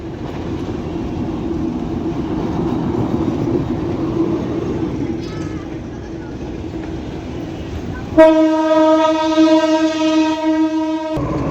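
Rumbling train passes by with a steady roar, then a loud, sustained horn blares for about three seconds near the end.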